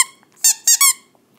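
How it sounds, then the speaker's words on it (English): Three quick, shrill squeaks from a Big Bird squeaky dog toy, the second and third close together, loud and near with quiet gaps between. "Big Bird squeaky toy."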